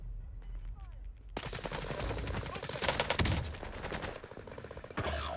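AK-47 in the Warzone game firing long rapid automatic bursts, loud and close, with brief pauses and a final sharp shot at the end; no talk.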